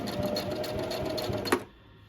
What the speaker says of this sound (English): we're coming to the end, and we're going to just back stitch